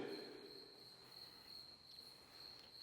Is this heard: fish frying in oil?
no